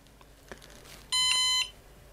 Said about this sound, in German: die NAS piepst jetzt